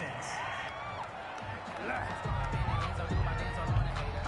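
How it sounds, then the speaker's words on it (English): A stadium crowd in a football video game on PS4 boos and murmurs in disapproval after a penalty call, a broad swelling roar that grows louder midway, with commentary-like voices mixed underneath. "this crowd does not like that call"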